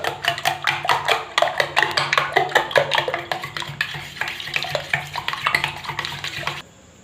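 An egg with salt whisked in a bowl, rapid rhythmic clinking of a utensil against the bowl for several seconds, steady and close, ending abruptly.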